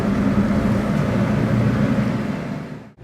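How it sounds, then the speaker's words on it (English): A noisy boat engine drones loud, steady and low, rumbling continuously without pause, then cuts off abruptly at the very end. "Oh, gee, it's a noisy boat."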